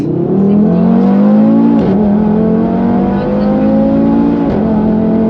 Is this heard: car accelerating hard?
yes